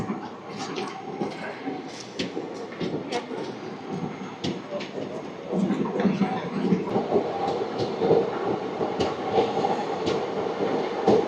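An express train between Annavaram and Tuni rolls along at speed, a constant rumble with rhythmic wheel clicks over the rail joints, heard from inside a carriage.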